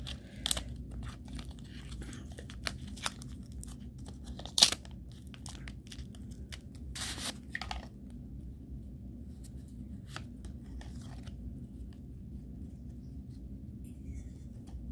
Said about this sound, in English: I can rip up this pack